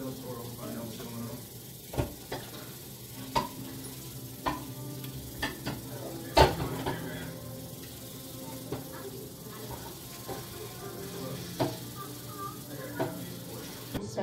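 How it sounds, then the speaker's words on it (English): Noodles being stirred in a pan for homemade pho, giving a steady low sizzle broken by scraping, clattering stir strokes at irregular intervals, with background voices from a television under it. "I just gotta stir this noodles, the noodles around a bit"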